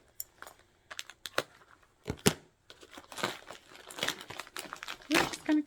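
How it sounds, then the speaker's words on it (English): Plastic packaging on a yarn kit is cut open and handled, giving close crinkling and snipping sounds in irregular bursts with quiet gaps. "So we're just going to cut it."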